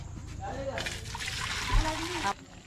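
Water drains from a pot of cooked rice for dum biryani on a village wood-fired stove, giving a trickling, splashing pour of about a second and a half under a person talking.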